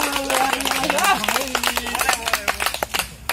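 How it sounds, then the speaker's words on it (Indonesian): A group claps hands during a paintball game briefing, sharp irregular claps growing more distinct toward the end, with a voice talking over the first half. "Oke, tepuk tangan dulu."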